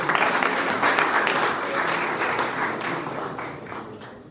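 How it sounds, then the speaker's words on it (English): An audience at a startup pitch session applauds after a pitch, with dense, close clapping from many hands that starts strong and gradually thins and fades toward the end. "Round of applause."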